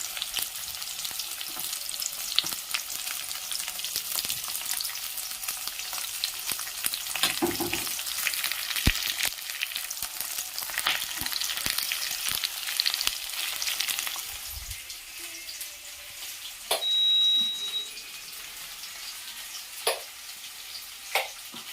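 Onion, curry leaves and green chilli frying in a pan for a country chicken fry, a continuous close sizzle with occasional stirring scrapes and a few clinks, the hiss easing slightly toward the end.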